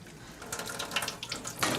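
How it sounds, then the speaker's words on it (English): Warm water runs steadily from a tap into a sink, a continuous close splashing hiss with slight surges in flow and no voices. "turn on the warm water"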